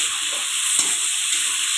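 Shrimp with chili paste fries in a pan, giving a constant bright sizzling hiss, close and steady, with one brief stir or scrape partway through and no talking.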